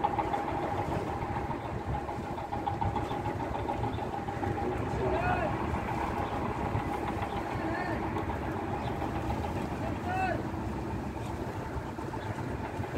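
An engine runs at a steady idle throughout, a constant mid-pitched drone with no change in speed, while a voice speaks faintly beneath it.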